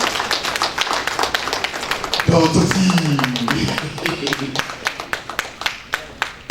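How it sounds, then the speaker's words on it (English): Scattered hand claps from a small group ring out in an uneven rhythm, while a voice speaks briefly partway through. "A round of applause for him too."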